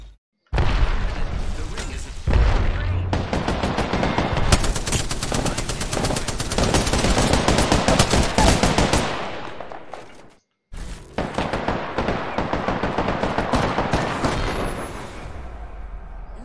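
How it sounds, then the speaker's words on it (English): Sustained automatic gunfire rattles in the video game Apex Legends, loud rapid bursts that keep going for several seconds, break off briefly, then resume at full intensity. "Getting shot at."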